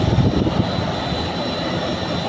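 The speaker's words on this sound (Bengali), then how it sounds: "একটি বিমান কিভাবে রানওয়ের দিকে ছুটে যাচ্ছে।" An airplane taxiing toward the runway gives a steady, loud engine roar with a low rumble and a constant high whine, heard at close range with no voices.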